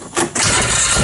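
A Polaris Ranger utility vehicle engine with nearly 4,000 hours cranks briefly, then catches and settles into a steady, loud running drone close by, with no talking.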